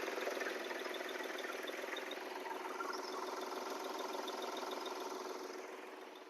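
A 2017 Hyundai Grand i10 Asta sits idling, its engine giving a steady, even hum with a faint mechanical whine, unbroken and fairly quiet, slowly fading slightly at the end.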